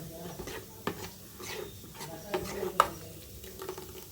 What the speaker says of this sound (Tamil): சுகர் சேர்த்து நல்லா மிக்ஸ் பண்ணிக்கலாம்.